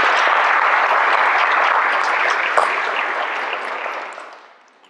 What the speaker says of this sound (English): Give yourself a well-deserved round of applause.